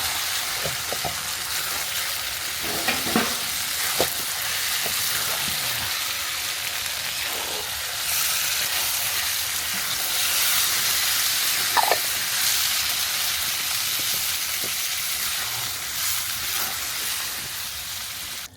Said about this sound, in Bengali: এবার একটু আমরা নাড়িয়ে নেব।